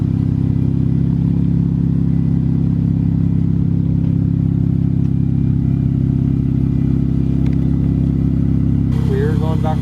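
A Nissan Z fitted with a new titanium exhaust hums at a steady low idle or cruise during a test drive, close and continuous, with people talking inside the car.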